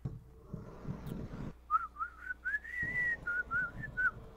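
A person whistles a wavering, slightly unsteady tune close by in a video game, several short rising and falling notes, after a stretch of low background noise.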